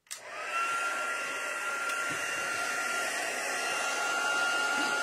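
Heat tool blowing steadily at a chipboard card for a slim-line card, a continuous close airy roar with a faint whine, running without pause and no talking.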